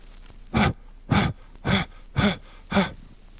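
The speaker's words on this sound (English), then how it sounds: "It's a simple call made by huffing into your call like this." Five breathy huffs blown into a mallard duck call as a long-distance feed call, evenly spaced about half a second apart, close and moderately loud with no talking.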